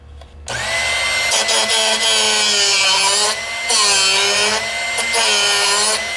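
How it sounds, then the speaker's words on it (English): A Drill Doctor XP2 bench sharpener grinding a drill bit, a loud, steady high whine with brief dips in pitch as the bit is turned in the machine, close up and alone. "That is sharpening that drill bit."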